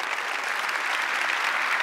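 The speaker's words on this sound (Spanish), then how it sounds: "Fuerte el aplauso." A crowd applauds steadily, a dense wash of clapping hands that holds at an even level from start to finish.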